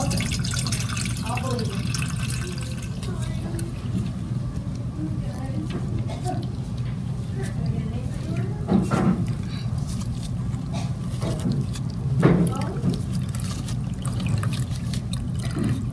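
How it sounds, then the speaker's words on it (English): Water trickles and drips through wet cheesecloth holding fine coffee grounds for Thai iced coffee, a steady low draining patter with occasional splashes, while a person talks throughout. "So I wet it first because it's easier to drain it down."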